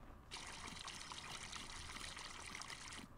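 Milk pours steadily into a milk can in Farming Simulator 19, a continuous trickling, liquid fill that starts abruptly and runs unbroken at even volume, with no talking over it.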